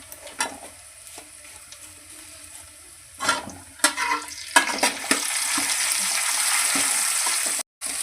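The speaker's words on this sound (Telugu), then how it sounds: "ఆయిల్ వేడెక్కినాక అందులో వేసుకొని ఫ్రై చేసుకోవాలి." Fish eggs fry in hot oil in a pan, a steady close sizzle that swells louder in the second half, broken by scrapes and clatters of stirring.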